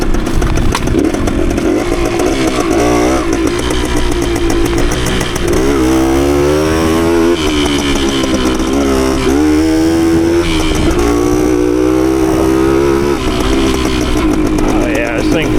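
A 1980 Suzuki TS185 two-stroke dirt bike engine revs loudly and continuously, pitch climbing and falling through the throttle, with a person talking over the raspy engine noise.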